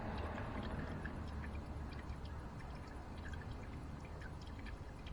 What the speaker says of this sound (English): this is where you put more coolant into the overflow reservoir